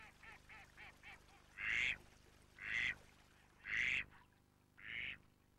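Mallard duck giving a series of quacks: several quick soft calls, then four loud, drawn-out quacks spaced about a second apart, clear and near against a quiet background.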